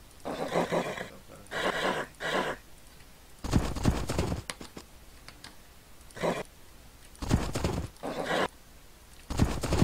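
Horses in the Age of Empires 2 strategy game neigh and whinny in repeated short bursts, moderately loud, separated by quieter gaps with faint clicking like a computer keyboard or mouse.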